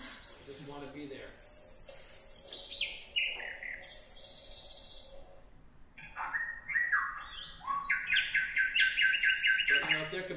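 Nightingale singing in Berlin at a noisy urban spot, a loud close run of varied whistles, trills and rapid chirps in bursts, with faint insect-like chirring and a low background hum underneath.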